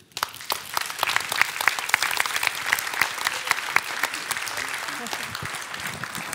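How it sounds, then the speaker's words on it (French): At a civic honours ceremony in Florange, an audience claps for an honoree with sharp, distinct hand claps forming steady, moderately loud applause that carries on evenly for several seconds. "on peut encore vous applaudir"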